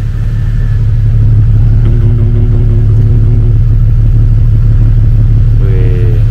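A Jeep Cherokee XJ Limited six-cylinder idles with a deep, steady rumble heard close and loud, its even drone holding throughout with slight rises in engine tone near the middle and end.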